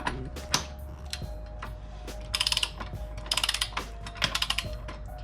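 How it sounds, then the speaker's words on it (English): A torque wrench ratcheting while tightening a motorcycle rear axle to set the chain, with three quick bursts of sharp, close clicking separated by pauses, over a low steady hum. "And I have a torque wrench here."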